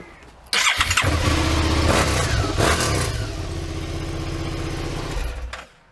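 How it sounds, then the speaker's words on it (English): A 2020 Suzuki SV650X motorcycle, nearly new and mostly stock, cranks and fires up with a sharp burst, then settles into a loud, close, throbbing idle that fades out at the end. "It's a 2020 Suzuki SV650X. A great bike, runs great. Start it up for you guys."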